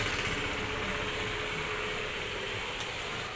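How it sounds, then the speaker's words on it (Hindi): A TVS motorcycle with a spark plug current fault runs steadily just after starting, giving a continuous close idling hum with no voices over it. "अब ये बाइक स्टार्ट तो हो गई"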